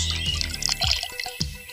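Starchy water drained off boiled rice pours and drips, a close splashing trickle with a few distinct drops toward the end, no talk over it.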